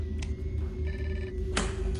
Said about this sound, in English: The phone call from Mr. Shadow.